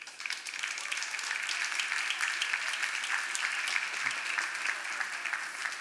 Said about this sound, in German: Herzlich willkommen, ihr Applaus für Frank Wechsel